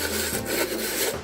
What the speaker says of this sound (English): I'm gonna just sand it down real quick and we'll just finish up